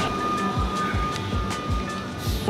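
A Melbourne metro train rumbles and clacks along the rails at a station with a steady hum and rhythmic wheel thumps, heard from the platform.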